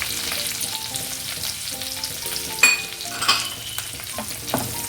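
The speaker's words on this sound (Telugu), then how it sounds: "ఇది కొద్దిగా పచ్చిమిర్చి ఫ్రై అయ్యేలాగా చూసుకోవాలి." Green chillies, mint and curry leaves frying in a pan give off a dense, continuous crackling sizzle, with a few stirring clatters partway through. The sound is close and has no speech over it.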